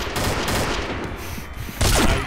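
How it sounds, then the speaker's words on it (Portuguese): Rapid bursts of gunfire from a shooting video game during an official match, dense and continuous volleys of shots that swell louder near the end, with no talk over them. "Que belo tiro!"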